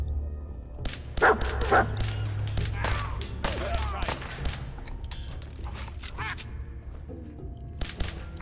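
Dog companion barking in the game Fallout 4: a scattered run of sharp barks amid busy game sound effects, including bursts like gunfire, with some background voice.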